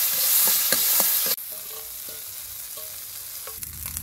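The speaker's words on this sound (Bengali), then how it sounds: "আমি এই হলুদ লবণ দিয়ে মরিচ দিয়ে কাঁকড়া কাটাকে আগে তেলে ভেজে নেব।" Crab pieces coated in turmeric, salt and chili fry in oil, a close, loud sizzle with sharp spatula scrapes and taps that drops abruptly to a quieter, steady crackle.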